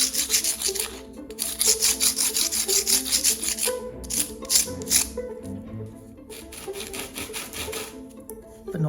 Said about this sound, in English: I'm able just to saw these out and define the ridges. It is very soft as a material to sand.